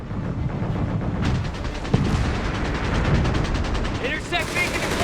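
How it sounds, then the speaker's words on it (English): Artillery fire in a Company of Heroes 3 battle, a steady stream of rapid gunfire bursts under loud battlefield noise, with one sharp louder report near the middle and voices talking over it. "Batteries will fire on all targets at will."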